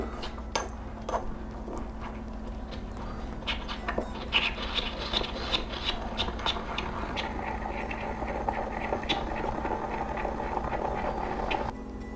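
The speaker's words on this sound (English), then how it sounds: "Now what I'm going to do is I'm just going to sit here and grind away." Basil is ground with a mortar and pestle, a close run of soft scraping and rubbing strokes with faint irregular taps, steady throughout.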